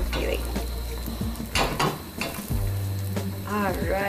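Cheese omelette cooking in a pan, a steady sizzle with scrapes and clinks of utensils against the pan, a sharp stir around the middle, and brief voices in the background.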